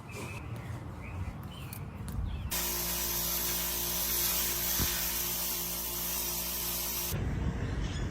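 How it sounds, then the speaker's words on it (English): A can of CRC parts cleaner and degreaser sprays in one steady, loud hiss lasting about five seconds, after a few quieter handling sounds. "I'm currently on my third a bottle of this, or can of this CRC parts cleaner and degreaser."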